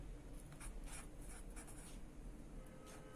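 Marker or chalk scratching across a classroom board while an accounting double-entry problem is worked out, with soft rubbing strokes in short bursts over a steady low room hum, close and fairly quiet, no talking.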